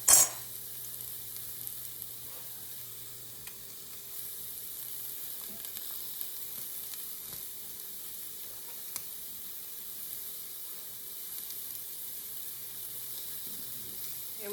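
Pancakes sizzle steadily on a hot griddle while a spatula runs through the batter to keep them apart, a soft continuous frying hiss with faint scraping ticks, close and alone with no talking.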